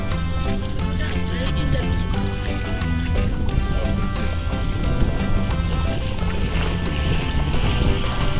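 Steady engine drone of a small motorboat running continuously on salt water at Cijeruk beach, with wind buffeting and water rushing beneath, loud and close throughout.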